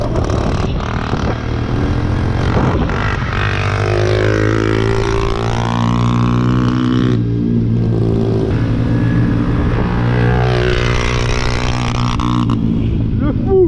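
A motocross dirt bike revs hard and loud throughout while being ridden aggressively, the engine note rising and falling in sweeping pitch bends, with a voice talking over it.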